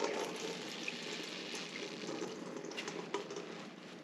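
Water drains steadily out of soaked acorn flour as it is lifted, a faint continuous wet rushing and trickling with no voices.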